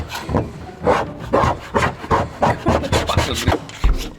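Rhythmic rasping scrapes, a scraper dragged repeatedly across a Rolls-Royce car panel in quick strokes, taking body filler down to bare metal, close and fairly loud, with no talking.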